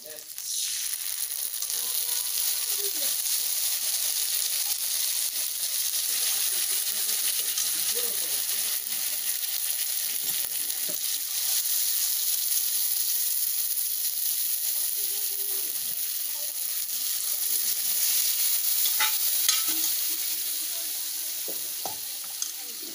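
Red lentils fry in hot oil while a spoon stirs them, giving a steady bright sizzle with scattered scrapes and clicks throughout.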